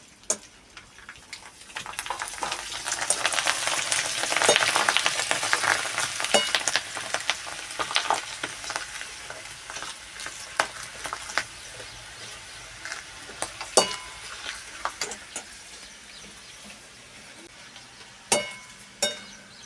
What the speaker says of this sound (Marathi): तेल जास्त तापल्यानंतरच त्यामध्ये आपल्याला पोंगा टाकायचा आहे